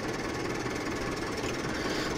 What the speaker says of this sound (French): Ça fait vraiment le bruit ultra réaliste du vieux tracteur. Les vieux tracteurs, ça fait souvent ce bruit là quand ça démarre.